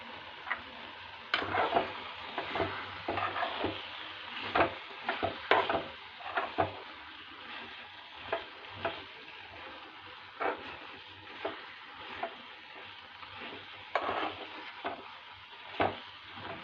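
Tomato and coriander chutney cooking in a pan, a soft continuous sizzle broken by repeated sharp ticks and clacks of a spoon against the pan at uneven intervals, close and moderately loud.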